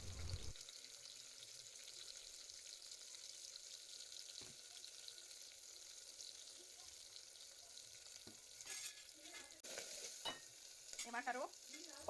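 Curry leaves, turmeric and asafoetida frying in oil for a ridge gourd pachadi, a faint steady sizzle throughout, with a few soft stirring scrapes and crackles toward the end.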